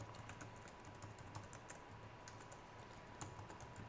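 Code being typed on a computer keyboard, soft rapid key clicks in uneven bursts under a low steady hum, quiet and close, with no voices.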